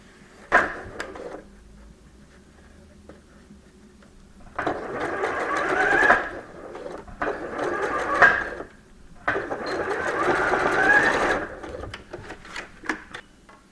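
A sewing machine stitches along a shirt cuff in three or four bursts of rapid whirring, each a second or two long, separated by short quiet pauses, close and clear.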